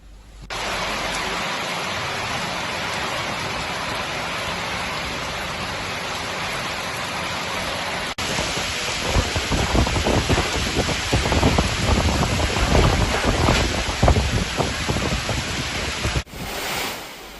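Heavy monsoon rain in Kerala pours steadily and loudly, then grows harsher with dense splashing in the second half, with no voices.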